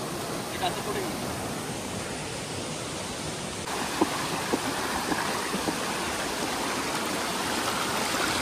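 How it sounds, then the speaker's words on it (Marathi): A continuous rushing roar of falling water fills the scene, steady and dense, with a few faint clicks and knocks on top. "मोठं फॉल आहे"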